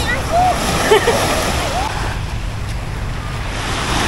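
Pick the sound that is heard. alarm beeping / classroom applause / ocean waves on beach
ocean waves on beach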